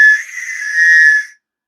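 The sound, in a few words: loud whistle being blown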